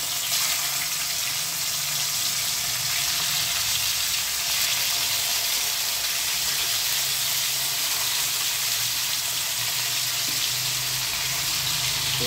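Pieces of hilsa fish laid one by one into hot oil in a pan produce a loud, continuous close sizzle, with no talking.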